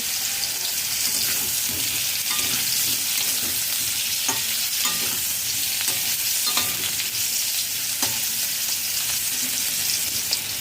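Potatoes frying in a pan over a low-to-medium flame, giving a steady, even sizzle throughout with occasional soft clicks as they are stirred; no voices.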